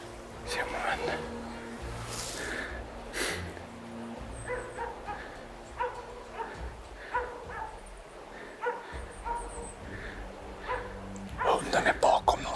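A hunting dog yips and barks in short bursts during a moose hunt in Swedish forest, somewhat distant and intermittent, with quiet voices of hunters talking low over it.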